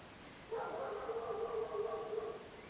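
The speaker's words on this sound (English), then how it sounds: "Oh, and that's the neighbour's dog." Neighbour's dog heard from a distance, a single drawn-out howling bark that holds for about two seconds, faint and alone against quiet background.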